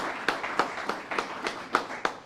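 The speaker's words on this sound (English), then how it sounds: "Let's give the ad district a round of applause" Sparse, scattered hand claps from a small audience at a governor's event in Pulaski County honoring a district, about seven distinct claps over a couple of seconds, fairly quiet and roomy with no voices on top.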